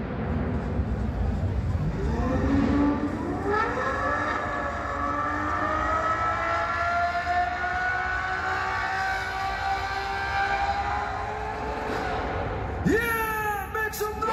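A loud car engine revs hard and sustained during a smoky burnout at the Brussels Motor Show, pitch climbing and holding as tires scream, ending with a sharp rising whine.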